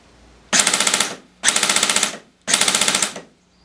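Code-8 airsoft PTW firing on full auto, three loud close bursts of about half a second each, with rapid evenly spaced shots and a short gap between bursts.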